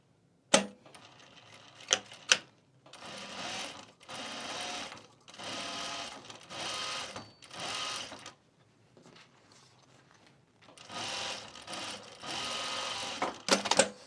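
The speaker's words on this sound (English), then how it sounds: "So I'm just going to stick my pocket on here and stitch it on." Sewing machine stitching a pocket onto a travel bag, running in several rapid bursts of a few seconds each separated by pauses, with a few sharp clicks and knocks between runs, close and fairly quiet.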